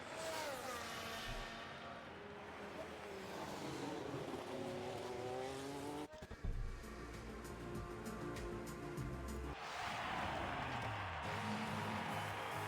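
F1 race cars in the F1 24 video game cross the finish line with loud, continuous high-revving engine whine and shifting pitch, a brief thump midway, engines droning steadily.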